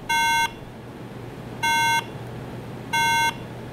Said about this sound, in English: it will beep like this at startup